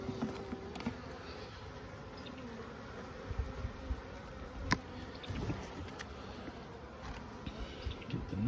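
Honeybees buzz in a continuous, faint hum while hive frames are lifted out and inspected outdoors, with a few soft handling clicks mixed in.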